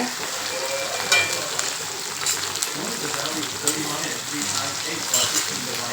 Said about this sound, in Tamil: இந்த வெங்காய தக்காளியோடவே இந்த இலையும் போட்டு வதக்கலாம் போட்டு பொறுமையாக வதக்குங்க